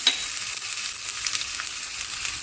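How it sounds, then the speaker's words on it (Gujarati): Mustard seeds and white sesame seeds sizzling in hot oil for a tempering, a continuous close crackling hiss with small pops and no talking. "રાઈ ફૂટી જાય એટલે 2 ચમચી સફેદ તલ લીધા છે એ એડ કરીશું."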